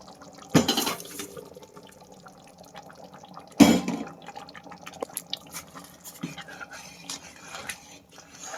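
Rice is tipped into water in a pressure cooker pot for mushroom biryani, giving two short splashy pours a few seconds apart, followed by faint drips and small liquid sounds in a quiet kitchen.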